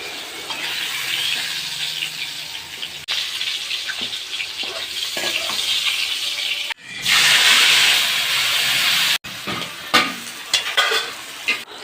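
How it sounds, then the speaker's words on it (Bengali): Pointed gourd (potol) fries in hot oil in a home kitchen, giving a loud, steady sizzle broken by stirring scrapes and a brief surge of hissing. "পটলটা লাল লাল করে ভেজে নিতে হবে, আলাদা আলাদা করে।"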